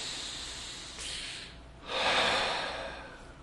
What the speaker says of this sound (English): you took a breath